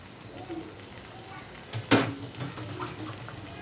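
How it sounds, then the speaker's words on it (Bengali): Green chilies sizzle in hot oil in a pan for a tomato chutney, with a short burst of frying near the middle and a low steady hiss around it; no one speaks. "এখন কাঁচামরিচটা ভাজবো"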